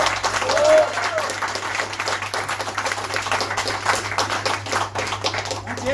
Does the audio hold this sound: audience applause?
yes